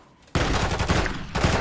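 Gunfire in Call of Duty Modern Warfare 3 bursts in after a brief quiet moment as loud, rapid automatic shots that continue to the end.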